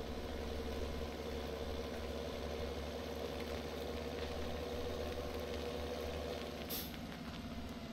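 Tractor engine idling in Farming Simulator 2017 on the Slovak Village map, a steady low diesel rumble holding an even drone throughout, with a brief faint hiss near the end.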